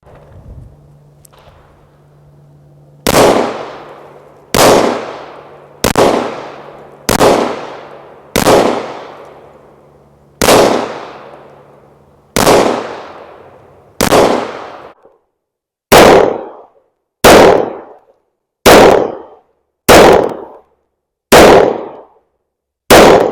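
An FN 545 MRD .45 ACP pistol firing at targets: about fourteen loud, sharp gunshots, each with a brief ringing tail, first at a steady pace with gaps, then a quicker string, no talking.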